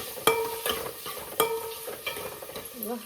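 Tomatoes frying with onion and chili in a pan, with several sharp scraping strokes of a spoon spaced through the clip over a faint sizzle.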